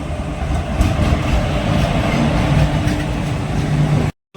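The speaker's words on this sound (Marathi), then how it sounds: "संपर्क क्रांती एक्सप्रेस आले." Sampark Kranti Express passing on the Konkan Railway: a loud, close rushing roar of coaches and wheels on track with rumbling clatter, ending abruptly.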